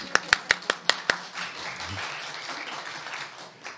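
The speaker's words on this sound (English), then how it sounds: "That deserved an applause." Half a dozen crisp, separate hand claps ring out close by, then blend into a soft, sustained patter of audience applause that fades as a faint voice comes in.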